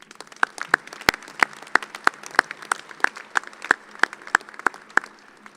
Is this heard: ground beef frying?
no